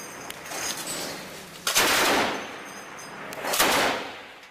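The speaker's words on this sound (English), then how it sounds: "the Russian actor is seen shooting an automatic weapon towards Donetsk International Airport" Automatic weapon fire directed toward Donetsk International Airport, heard as two loud bursts of rapid shots about two seconds apart, each swelling and fading against a steady outdoor background.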